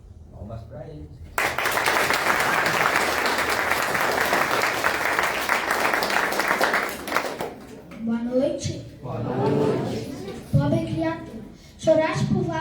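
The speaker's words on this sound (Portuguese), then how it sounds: "Palmas para ele." Audience applause breaks out at a poetry night, a sudden full burst of clapping that lasts several seconds and then stops abruptly, with voices talking before and after it.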